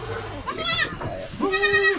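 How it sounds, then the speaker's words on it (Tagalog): Goats on a Philippine farm bleat twice, loud and close, each call a wavering nasal cry lasting under half a second. "Yan po yung mga kambing natin."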